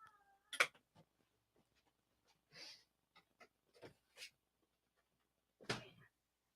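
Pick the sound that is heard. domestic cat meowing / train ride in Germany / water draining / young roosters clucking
domestic cat meowing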